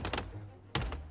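A wooden platform is destroyed in The Forest video game: two short bursts of thudding, rustling noise, the second fairly loud, separated by a quieter gap with a low hum.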